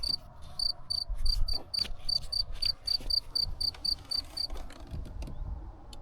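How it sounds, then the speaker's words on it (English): Crickets chirp at a vineyard in Italy's Aosta Valley, a steady series of regular high chirps repeating across most of the stretch, moderately close over faint low rumble and no talk. "And you can hear the crickets somewhere."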